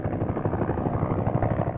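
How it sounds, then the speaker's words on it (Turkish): A helicopter flying over a rural area under security watch gives a steady, throbbing rotor drone at moderate distance, continuous throughout with no voices. "Helikopterler de bölgeyi havadan kontrol altında tuttu."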